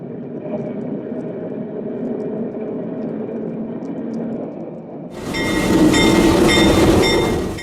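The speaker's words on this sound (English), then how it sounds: "An SN fan trip with Hall-Scott work motor MW302 is seen ducking under the Santa Fe and SP" A Sacramento Northern Hall-Scott work motor MW302 rail car on a fan trip rumbles past under railway bridges, a steady low mechanical rumble that swells abruptly into a loud, broadband roar with bright metallic ringing as it passes close.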